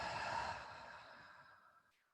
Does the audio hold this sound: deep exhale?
yes